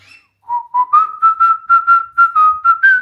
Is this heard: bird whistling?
yes